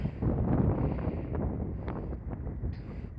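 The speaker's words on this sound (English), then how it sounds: "Oh boy, it's so windy." Strong outdoor wind buffets a handheld microphone by a large parking lot, producing a steady, heavy low rumble and roar that fills the whole stretch, close and loud, with no voices.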